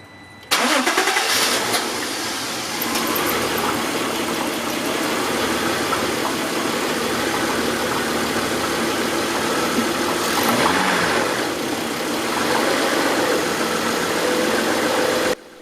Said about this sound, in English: what we're going to do is attempt to start the car